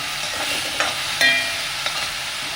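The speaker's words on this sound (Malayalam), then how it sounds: "പയർ വേവാൻ ആവശ്യമായ കുറച്ച് വെള്ളം ഒഴിച്ചു കൊടുക്കാം" Water poured into a hot pan of red beans, hissing and sizzling steadily with a few brief clinks of a utensil stirring.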